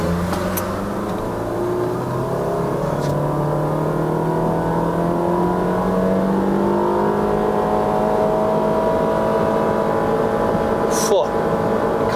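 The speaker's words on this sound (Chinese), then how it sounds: "你这一踩到完的时候啊，它把那个转速拉高" The 1.5-litre i-VTEC engine of a Honda Shuttle with a CVT revs at full throttle, droning loudly from inside the cabin as its pitch climbs steadily, with a voice speaking over it at times.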